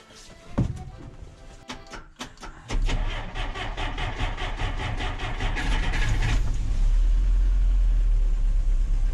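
A few clicks and clunks, then a Żuk van engine cranks and catches, settling into a steady, loud rumbling idle that grows heavier toward the end.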